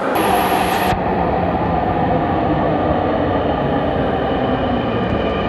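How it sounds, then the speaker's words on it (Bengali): A metro train in Dhaka, Bangladesh rumbles steadily and loudly throughout as it arrives close by, with a high whine in the first second that cuts off. "মেট্রোল আসছে এটা উত্তরের মেট্রো রেল"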